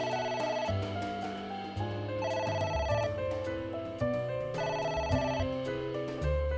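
A telephone rings repeatedly in the AI: The Somnium Files video game, a bright electronic ringtone of repeating tonal bursts over soft game music, recurring several times in a steady pattern with no talk.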